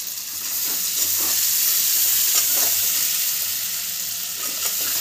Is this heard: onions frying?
yes